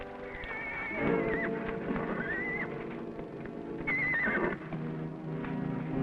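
A horse from a 1955 Western television adventure neighs and whinnies loudly and close, with a second whinny later, while hooves clip-clop steadily beneath.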